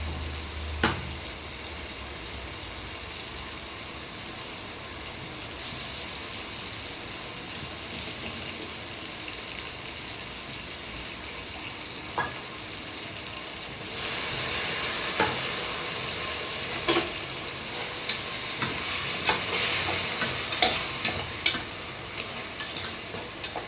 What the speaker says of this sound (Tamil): இப்போ இஞ்சி, பூண்டு இதெல்லாம் அரைச்ச மசாலா போட்டுக்கலாங்க